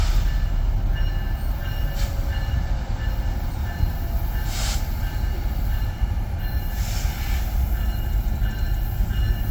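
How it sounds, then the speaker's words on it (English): A mixed freight train led by EMD diesel locomotives, including an SD70AH, rumbles steadily past close by in Rochelle, a continuous heavy roll of wheels with occasional faint squeals. "Looks like we have a mixed consist train."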